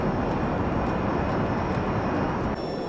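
Steady, loud roar of a Learjet's engines in flight in a crash animation, a continuous broadband drone with faint tonal whine, unbroken throughout.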